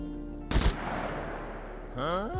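One sharp AK rifle shot cracks out and punches through a thick wall in SCUM, a loud single report followed by a lingering ringing tail and a rising whine near the end, over a steady low hum.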